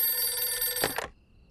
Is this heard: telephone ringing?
yes